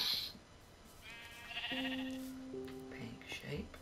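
Cartoonish sheep bleats in a block-building farming video game, a few short wavering cries over a background of chatter, with people talking during the clip.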